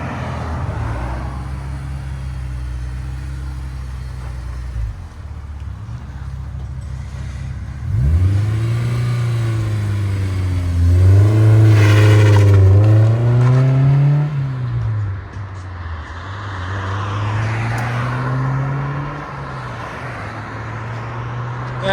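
A 2000 Honda S2000 with a 2.0L engine and an exhaust fitted with Vibrant resonators idles, then revs and pulls away, engine tone rising and falling through gears as it drives off and fades somewhat into the distance.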